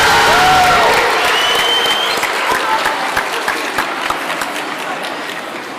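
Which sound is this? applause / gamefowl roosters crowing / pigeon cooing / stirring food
applause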